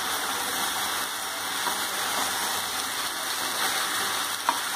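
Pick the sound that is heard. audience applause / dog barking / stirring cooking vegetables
stirring cooking vegetables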